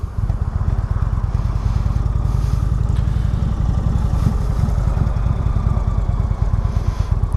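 A 2016 Indian Roadmaster motorcycle engine drones steadily while riding, a dense low throbbing pulse at close range with constant loudness and wind-like rush above it, no talking.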